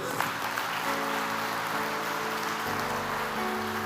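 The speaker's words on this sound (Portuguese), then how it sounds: "Você pode aplaudir o Senhor" Sustained applause from a church congregation fills a reverberant room, steady and dense, with music or tones held underneath.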